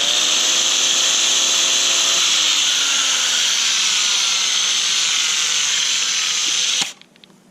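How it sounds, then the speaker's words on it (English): An angle grinder runs alone in a workshop making tractor forks, a loud steady high whine that slowly drops in pitch as if straining, then cuts off abruptly near the end. "grinder smells funny, and it doesn't sound like it's going as fast as it should"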